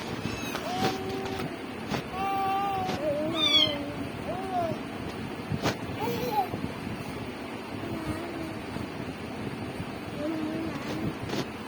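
A cat meows repeatedly at close range, giving several distinct meows spread through the first half. Background noise runs underneath, and a person's voice is also present.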